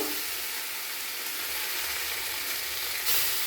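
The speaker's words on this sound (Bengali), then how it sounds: "মশলাগুলোকে নাড়াচাড়া করে ভালোভাবে মশলা কষিয়ে নেবো আলুর সঙ্গে" Spice paste sizzling and frying with potatoes in a pan for an omelette curry, a steady broadband hiss running through the whole stretch with no talk and a slight rise near the end.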